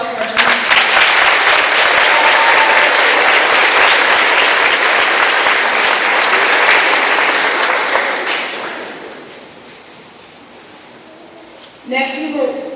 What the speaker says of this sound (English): Let's give one more round of applause for our juniors.